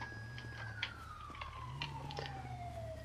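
Police sirens wail faintly in the distance during a roleplay video game, a slowly falling tone over a low vehicle hum with a few soft clicks and knocks.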